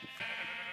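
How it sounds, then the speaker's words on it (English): Sheep in Minecraft give a single drawn-out bleat, steady and fairly close, with nothing else around it. "not only do we have all the different color sheep"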